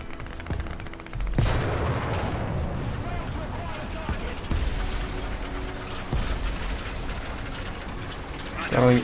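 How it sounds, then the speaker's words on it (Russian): A T-34 tank cannon fires in the War Thunder video game, a sharp loud blast followed by a rumbling decay amid engine and battle noise, with a second heavy thump later. "Второй неудачный выстрел."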